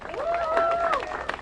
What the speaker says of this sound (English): let's give Maya Wiley a great big round of applause.